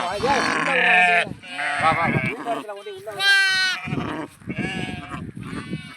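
A young goat kid bleats repeatedly in a forest campsite, loud and close, with wavering cries mixed with a man's speech.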